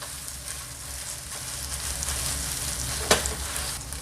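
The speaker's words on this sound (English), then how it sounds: "after a couple minutes our chorizo's cooking" Chorizo browns and sizzles steadily in a pan, a constant close frying hiss with a brief sharp crackle near the end.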